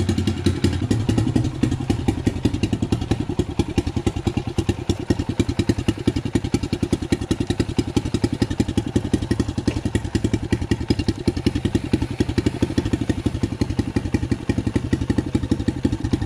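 A turbocharged Loncin motorcycle being ridden, its engine running loud and steady throughout with a dense, rapid pulsing beat and rattling mechanical clatter, close and continuous with no talk.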